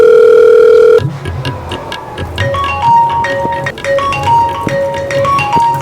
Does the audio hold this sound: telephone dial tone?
yes